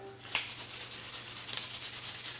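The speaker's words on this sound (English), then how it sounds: "I'm going to finish sanding it with this 500 grit" Hand sanding an Infiniti Q60 wheel rim with 500 grit sandpaper, a close, rhythmic scratchy rubbing in quick repeated strokes after a sharp initial contact, with no talking.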